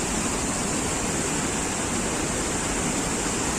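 Steady, loud roar of a flooded river rushing in full spate, a continuous broadband wash with no pauses or voices.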